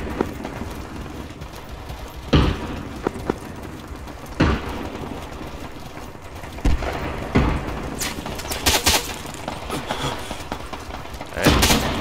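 Heavy machine gun fire in the military video game ArmA comes as scattered loud bursts and thumping booms over a steady background rumble, with clustered shots near the end.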